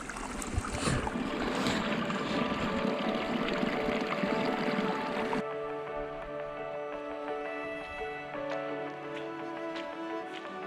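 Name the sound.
filling an empty water container from a stream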